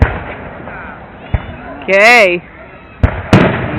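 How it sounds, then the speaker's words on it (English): Fireworks at a display in Albion crack in sharp, loud bangs and pops, one after another, while people talk and a voice rises in a sustained cry. "Here comes the big firework."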